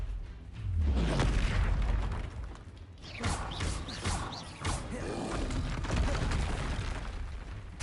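A Bombarda spell detonates in the video game Hogwarts Legacy, a heavy booming blast followed by rumbling, creaking debris and mechanical clatter from the surrounding fight.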